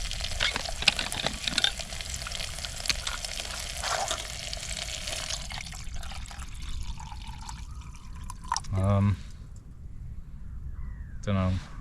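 Food frying in a fair amount of oil in a pan at a winter riverside camp, a busy crackling sizzle that fades partway through, followed by a couple of short low bursts.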